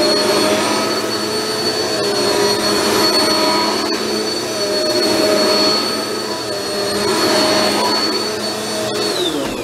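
A Black & Decker BDASV104 vacuum cleaner runs steadily and loudly for the whole stretch, a constant high whine over a broad airy rush, with no voices.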